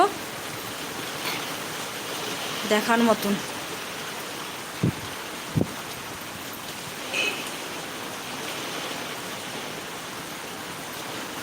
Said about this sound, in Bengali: খুব বৃষ্টি হচ্ছে খুব বৃষ্টি হচ্ছে